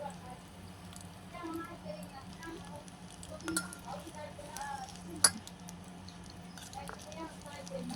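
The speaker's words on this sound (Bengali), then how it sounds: "তারপর আমি সুন্দরভাবে নেড়ে নেব যাতে ডিমগুলো পুড়ে না যায়।" Eggs frying in hot oil in a pan while being stirred, with a soft steady sizzle, faint scraping and occasional clinks of a utensil against the pan, one sharper clink near the end; a voice talks over it.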